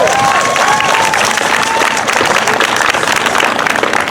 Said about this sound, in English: Another round of applause for a black Mexican woman right there.